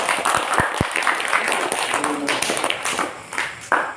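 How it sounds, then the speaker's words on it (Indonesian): Students in a classroom give a group of classmates a burst of scattered hand clapping, sharp close claps mixed with crowd noise and some voices in the room. "Ya, tepuk tangan untuk kelompok."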